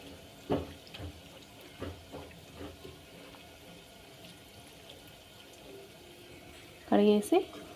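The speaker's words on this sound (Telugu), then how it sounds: "మంచిగా కట్ చేసుకున్న రొయ్యల్ని ఇలా వాటర్లో ఒకసారి కడిగేసి" Cut prawns being rinsed in water for a tomato prawn curry: soft, scattered handling splashes, then a louder, close burst of sloshing water near the end.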